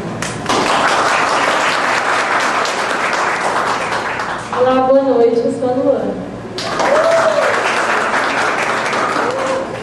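An audience claps steadily through a live event where presenters hand out gifts, the applause continuing under someone speaking into a microphone, briefly dipping and then swelling again.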